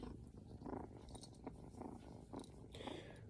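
Pet shelter cats purring, a soft rhythmic rumbling purr close by and quiet, pulsing steadily for a few seconds.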